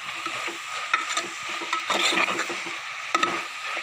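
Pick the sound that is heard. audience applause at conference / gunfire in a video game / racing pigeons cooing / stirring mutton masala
stirring mutton masala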